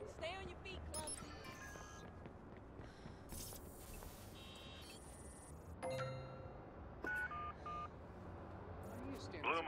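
Phone keypad tones in Watch Dogs, a quick run of electronic dialing beeps followed by repeated ringing tones, heard over game ambience and a voice speaking.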